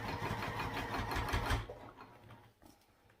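A domestic sewing machine stitches a baby sling at a steady fast buzz for about a second and a half, then slows and stops, leaving a faint mechanical click.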